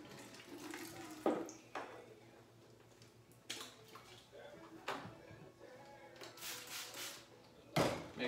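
Water running from a tap while a container used for a homebrew yeast starter is rinsed out, with intermittent splashing bursts and clunks of the vessel, close by.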